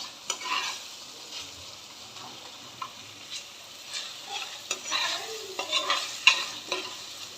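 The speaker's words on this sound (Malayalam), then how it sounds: "കുറച്ച് ആ തക്കാളി ഉള്ളിയൊക്കെ നല്ലോണം ഒന്ന് വഴറ്റ്" Tomatoes and onions for an avoli fish curry sautéing in a pan, a light steady sizzle under frequent scraping and clinking strokes of a stirring spoon, close and fairly quiet, with no one speaking.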